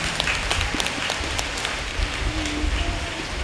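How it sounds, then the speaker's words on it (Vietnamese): An audience at a Catholic youth celebration claps in a sustained, dense round of applause, steady and moderately loud throughout with no voices. "Chúng con nổ một tràng vỗ tay để mà cảm ơn nhiều nha."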